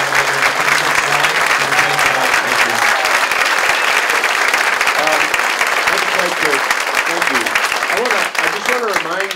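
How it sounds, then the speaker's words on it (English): Loud, sustained audience applause for the moderator at the end of a political debate between two candidates, a dense, even roar of clapping hands running steadily throughout with a few voices faintly mixed underneath. "And also a big round of applause for the moderator tonight."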